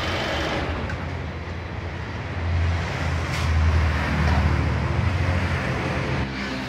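A Mercedes C 180 idles nearby, its engine running as a steady low rumble that swells slightly in the middle, with no talking over it.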